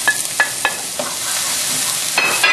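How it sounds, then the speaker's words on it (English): Onion and sweet pepper stir-fry in a hot oiled pan with a steady, bright sizzle. Several short scraping stirs from a utensil sound close up. "I add the onion and the sweet pepper."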